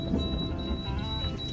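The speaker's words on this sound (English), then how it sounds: "Turn the alarm off." Boat navigation alarm on a sailboat cruising the Caribbean, a steady series of short high electronic beeps repeating over low engine and cabin rumble.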